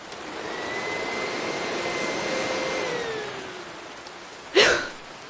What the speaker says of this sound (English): I'm vacuuming the floor.